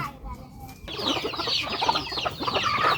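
Chickens cluck on a small family farm, a few soft calls that start faintly and grow into busier, louder clucking at close range.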